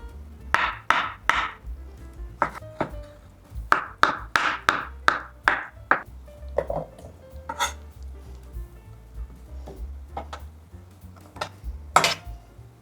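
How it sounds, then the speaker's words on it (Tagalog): Knife chopping onion, garlic and mushroom on a cutting board in a home kitchen, sharp close knocks coming in quick bursts with short pauses, alone without talk. "Tapos ko na i-chop yung sibuyas at saka bawang at itong mushroom"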